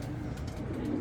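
Pigeons coo softly in a brief, low, murmuring call, faint and close, with no voices.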